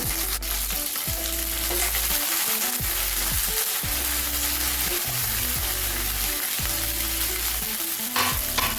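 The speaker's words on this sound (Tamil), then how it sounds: "பதினஞ்சு மிளகாய் போடுறீங்க" Dried red chillies, about fifteen, frying in oil in a pan for a country-chicken fry, a dense steady sizzle with repeated scraping stirs, close and continuous with no talk.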